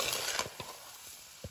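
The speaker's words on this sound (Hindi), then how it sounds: "अब इसे चलाते रहेंगे जब तक कि चीनी पूरी तरह से घुल न जाए।" Petha pieces and sugar being stirred in a pan, with a soft sizzle and a few distinct scrapes of the spoon against the metal, close and steady, and no talking.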